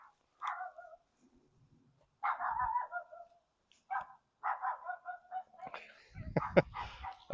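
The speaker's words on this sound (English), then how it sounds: "It was a dog, neighbor's dog." A dog barks several times in short, spaced bursts, fairly close, with quiet pauses between and a couple of dull knocks near the end.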